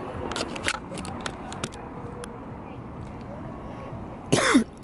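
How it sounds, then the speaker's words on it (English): Sharp coughs burst out near the end, loud and close, after a stretch of steady background murmur and faint clatter. "Sorry, coughing in the can."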